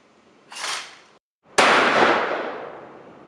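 Two gunshots ring out at an outdoor sport shooting range, a short crack followed by a louder sharp report with a long decaying echo, no talking.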